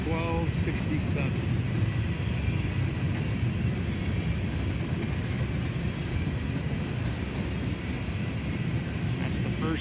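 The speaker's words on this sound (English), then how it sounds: "Obviously here it's a tank train, so look pretty similar." A BNSF tank train hauling empty crude cars rolls past in a steady, broadband rumble and rattle that holds evenly for about ten seconds, moderately distant, with a voice speaking over it.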